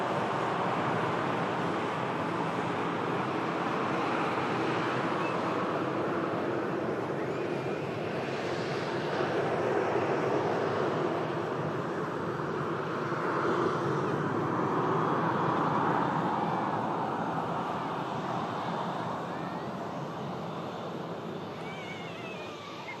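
A British Airways A321neo jet taxis across the runway, its broad rumble and whine rising and falling steadily at a distance under wind.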